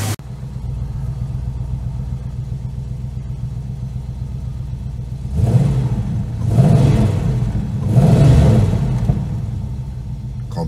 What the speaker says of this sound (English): The sound of a V8, can you?